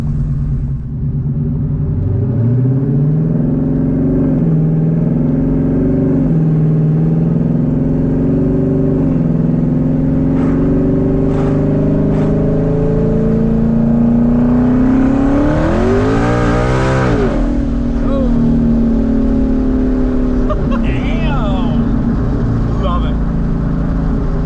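A twin turbo Ford Mustang engine rumbles loud and close, its pitch rising and falling through several revs with one sharp surge midway, while voices talk over it.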